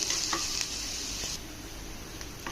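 Potato filling for aloo paratha fries in a pan with a steady close sizzle, broken by a few light scraping stirs of a spatula, and the hiss softens partway through.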